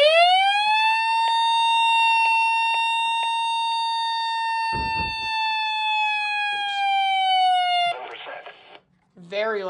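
An IMA WR200 radio sounds its alert alarm, a loud, steady, piercing electronic tone that holds for about eight seconds before cutting off into brief rustling noise.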